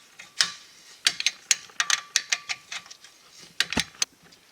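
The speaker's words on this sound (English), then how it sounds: "here we're tightening up the castle nut" A hand ratchet tightens a castle nut on a car's lower control arm, a series of quick, sharp clicking bursts in irregular rhythm, close and crisp with short pauses between strokes.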